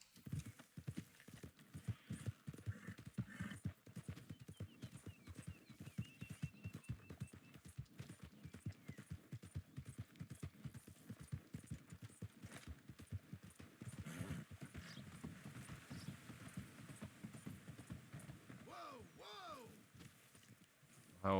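Horse hooves clip-clop steadily through a Red Dead Redemption 2 ride, a continuous rhythmic trot of moderate loudness with game ambience and brief talk over it.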